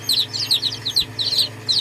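Young chicks peeping in rapid, high chirps, several overlapping close by in a busy, continuous chatter.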